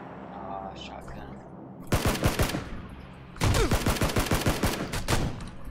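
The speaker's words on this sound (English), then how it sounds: "I shot him a whole bunch. Did you not see those bullets hit him?" Rapid gunfire in the video game PUBG during a shotgun fight, two loud bursts of repeated sharp shots with a pause between them, and players talking faintly underneath.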